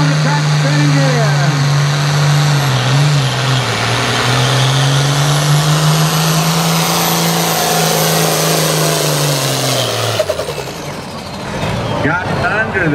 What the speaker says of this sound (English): Hot farm tractors on the track spinning gear.